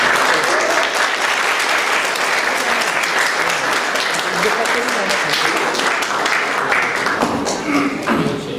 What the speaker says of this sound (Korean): 최분도 대표님이 나오실 때 열렬한 박수로 환영해 주시기 바랍니다